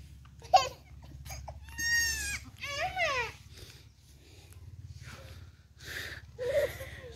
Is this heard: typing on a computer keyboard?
no